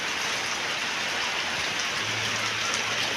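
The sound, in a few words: rain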